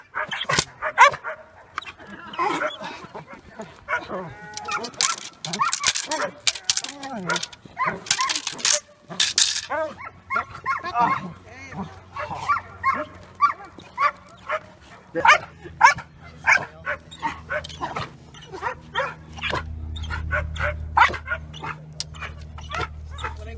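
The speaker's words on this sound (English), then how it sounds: "Get that dog out of here!" Dogs bark and yip repeatedly over a long stretch, close and energetic, with whimpers and people talking underneath.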